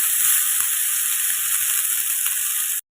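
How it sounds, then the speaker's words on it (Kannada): Fish frying crisply in a pan for a spicy fish fry, a steady bright sizzle running loud and continuous for nearly three seconds before cutting off abruptly. "2 ಕಡೆ ಈ ಥರ ಫ್ರೈ ಮಾಡಿಕೊಂಡ್ರೆ ತುಂಬ ಕ್ರಿಸ್ಪಿಯಾಗಿರುತ್ತೆ"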